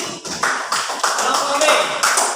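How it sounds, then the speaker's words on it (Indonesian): A classroom of primary school children claps for group A after its answers, a dense, steady patter of hands lasting a couple of seconds and swelling in bursts. "Oke, tepuk tangan untuk kelompok A."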